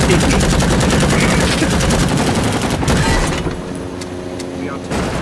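Gunfire in the Rising Storm 2 shooter: loud, dense, continuous rattling of automatic weapons for several seconds, thinning out near the end with a few sharper separate shots.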